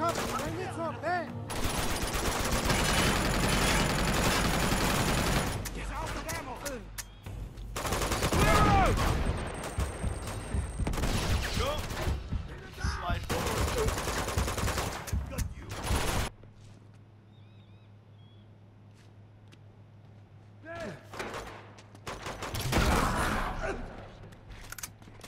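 Gunfire in Uncharted 2: Among Thieves, dense bursts of rapid automatic shots and bullet impacts in long stretches, then a quieter lull broken by a few more loud bursts.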